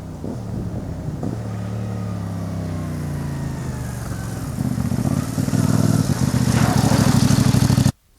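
A CFMoto 450MT motorcycle engine drones steadily as it rides over jumps, the pitch sliding down and then rising into a louder, harsher rev before stopping abruptly; close and loud, no speech.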